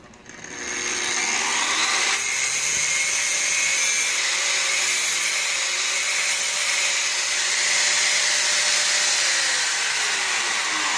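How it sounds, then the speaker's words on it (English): A homemade circular saw jig cuts through a drill bit with a loud, steady high-pitched grinding whine that spins up in the first second and holds evenly to the end, with no talking. "and I can proceed to cut this drill bit."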